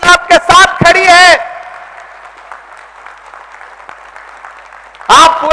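Applause from a crowd at a protest rally against the Waqf Act, a sustained clapping wash of moderate loudness, with someone speaking through amplification before and after it.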